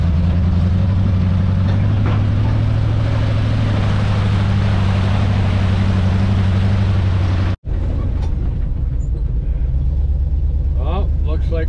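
A wrecker's engine drones steadily with a low, loud rumble while driving along, holding a constant pitch before a brief cut, then continuing with lighter background noise.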